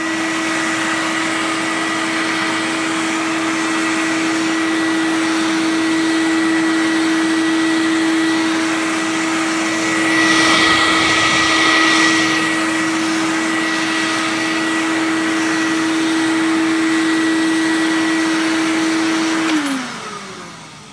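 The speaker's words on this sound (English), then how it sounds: "So we'll do some vacuuming with it, I guess, and let you hear how it sounds." Numatic compact C9 vacuum cleaner running with a black floor tool attached: steady loud motor whine and airflow roar, rising briefly in the middle as the tool moves across the floor, then winding down as it is switched off near the end.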